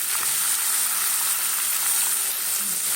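Chicken pieces frying in a pan, giving a continuous loud, even sizzle and hiss throughout with no talking.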